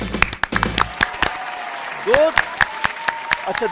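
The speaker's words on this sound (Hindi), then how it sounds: "तालियां।" Studio audience applause on a talk show bursts out in sharp scattered claps, with voices and a brief vocal exclamation mixed in over a few seconds.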